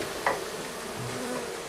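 Black honey bees hum inside an open hive, a soft continuous buzzing close by with a brief click near the start and no voices.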